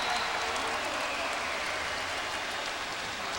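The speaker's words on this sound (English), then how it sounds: "Crowd urging the Blazers on." A Portland Trail Blazers home crowd roars and applauds after Brandon Roy's made shot in an NBA game against the Rockets, a dense, steady wall of cheering that fills the arena throughout.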